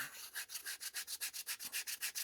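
A 120 grit sanding block rubbed on a leather strop, a rhythmic back-and-forth scratchy rasping of about a dozen quick even strokes, close and soft.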